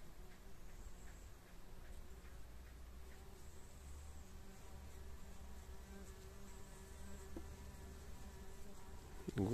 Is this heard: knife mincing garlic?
no